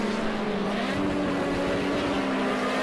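A 1973 BMW 2002 race car in the Project Cars 2 racing game drones at high revs in a steady, continuous engine note that stays loud throughout, with no voices.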